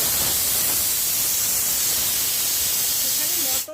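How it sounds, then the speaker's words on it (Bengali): Peas boiling with turmeric and salt in a home kitchen while oil heats in a wok, a steady loud hiss and bubbling that runs without a break and then cuts off sharply at the end. "মটরটা সেদ্ধ হচ্ছে, তেল গরম হোক"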